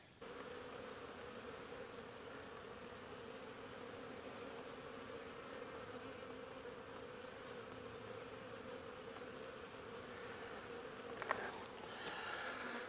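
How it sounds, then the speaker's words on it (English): Honeybees hum steadily at an open hive, a dense, continuous drone of many insects close by with no talking, and a brief rustle near the end. "bees are bringing in a lot of pollen"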